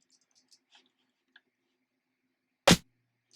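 A single dry, punchy snare drum hit with effects turned off cracks out after near silence broken only by faint small ticks.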